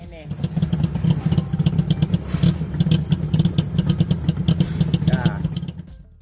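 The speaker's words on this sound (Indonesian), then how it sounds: "Ya, khas mesin 2 tak, agak berisik." The small two-stroke engine of a Suzuki ST10/ST20 idles with a rapid, rattling, uneven putter, loud and close. A voice may murmur faintly underneath.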